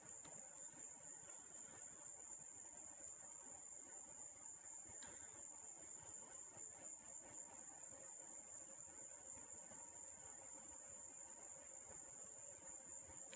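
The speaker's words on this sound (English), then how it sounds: "I see there's been no comments about the crickets tonight." Crickets chirp at night in a steady, continuous high-pitched trill that runs without a break. The sound is faint and distant.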